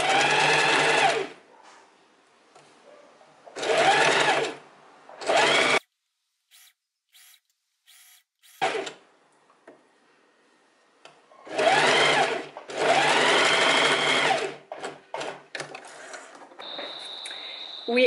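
A sewing machine stitches a linen Lea dress in several bursts of steady, rapid whirring, one long run near the end, separated by quiet pauses and small handling clicks.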